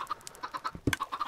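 Chickens clucking in a pen in the Minecraft-style game MCUnified, a quick run of short, close clucks and chirpy calls overlapping one another without any speech.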